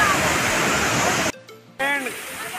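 Rushing water of Bamni Falls in Purulia roars loudly and steadily, cut by a sudden brief near-silence before the roar returns beneath a faint voice.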